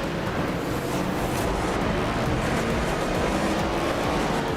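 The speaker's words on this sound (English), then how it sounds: "You already hear the cars on track." NASCAR Cup cars in the iRacing video game roar steadily on the Chicago street course, a loud, unbroken blend of engine noise with no clear pass-bys or talking.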